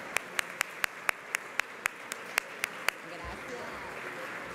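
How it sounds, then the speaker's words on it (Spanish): Slow, evenly spaced sharp claps, about a dozen single hand claps at a conference panel session, crisp and isolated, stopping abruptly with faint background murmur afterward. "Fuerte aplauso."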